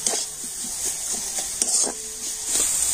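A spoon stirs a carrot filling with date palm jaggery in a pan, scraping in repeated close strokes over a steady sizzle and hiss.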